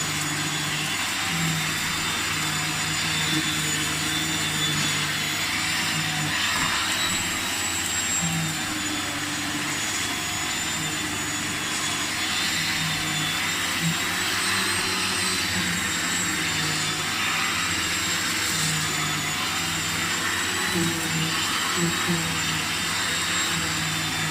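A vintage Hoover vacuum cleaner runs with a steady, continuous motor whine and airy roar that holds at an even, fairly loud level throughout, with no breaks or changes in pitch.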